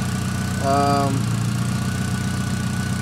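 A 1996 VW Passat B4 2.0L engine on RusEFI engine management idling, a steady close low rumble with a brief tonal whine partway through.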